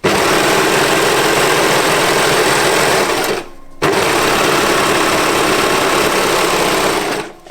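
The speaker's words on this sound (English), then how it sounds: "I'm going to sew this together. 6mm seam allowance on this." A sewing machine stitching the center back seam of a knit collar runs in a loud, steady whir close up, stopping briefly midway before carrying on at the same pace.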